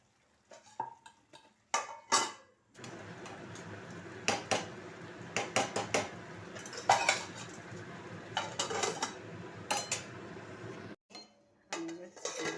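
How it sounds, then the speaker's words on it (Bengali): A lid comes off a pot of chicken curry with sharp metallic clanks and scrapes, followed by scattered clinks and rattles of utensils against the cookware. A soft sizzle runs underneath. "আমি ঢাকাটা খুলছি।"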